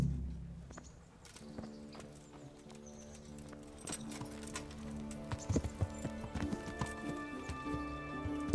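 Horse hooves clip-clop steadily while riding in the video game Kingdom Come Deliverance, a rhythmic patter that grows louder and busier over ambient music.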